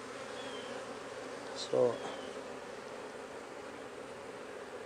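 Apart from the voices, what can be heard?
honeybees buzzing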